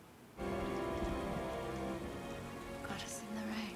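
Rain suddenly bursts into a steady, dense downpour on a rooftop in a film scene, a continuous hiss with faint rumbling beneath and a brief higher sound near the end.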